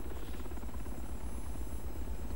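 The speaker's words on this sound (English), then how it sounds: "Why couldn't Neo just get in the helicopter with her?" A helicopter in the video game The Matrix: Path of Neo gives a loud, steady rotor thump, its rapid even beat continuous throughout with no talk.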